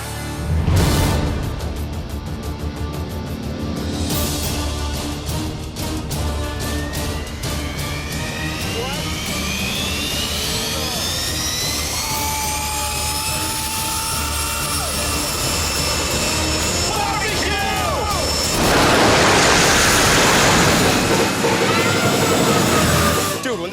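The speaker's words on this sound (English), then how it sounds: "using the heat from a jet engine hooked up to a dragster" Jet engine dragster on a drag strip rigged with hanging meats, its turbine building from a steady roar into a rising whine as it takes off, with a loud blast of fire near the end; people talk underneath.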